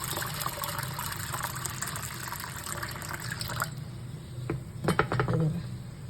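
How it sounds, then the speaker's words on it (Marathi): Plenty of water poured over lentils in a container to soak, a continuous filling gush for several seconds, then a few splashes and trickles, fairly quiet with no talking. "आता मंडळी भरपूर पाणी वतायचं आणि ही दोन तीन तासासाठी भिजत ठेवायची डाळ"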